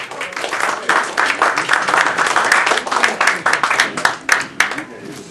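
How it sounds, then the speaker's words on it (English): A crowd applauds warmly, dense clapping that holds steady for several seconds before starting to thin out. "Let's have a warm round of applause for our next speaker, Lee Ping."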